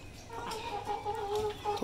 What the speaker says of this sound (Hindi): मैंने मुर्गा भी खोल दिया